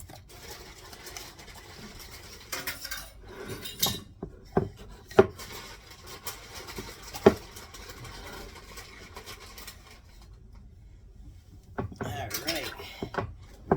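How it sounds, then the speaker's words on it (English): Metal spoons clink and rattle in a drawer or utensil holder in a home kitchen, with several sharp taps and jangles spread out over a soft background and brief talk. "Get a couple spoons here."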